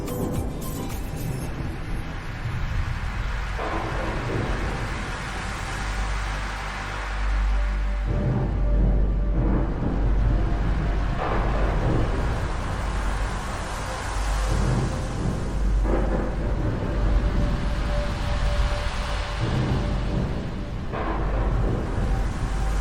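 A violent thunderstorm at sea off Ballybunion, with low rolling thunder rumbles and a steady roar of wind and rain filling the whole stretch, loud and without speech.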